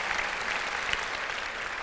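Sustained applause from a commencement audience honoring graduating veterans, a steady dense wash of clapping with no voices over it.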